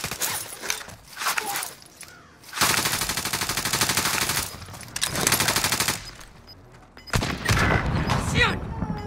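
Bursts of machine gun fire in Call of Duty: Modern Warfare come in loud sustained volleys, with short gaps and a final burst, over battlefield noise and players talking.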